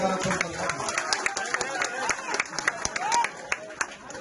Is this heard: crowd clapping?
yes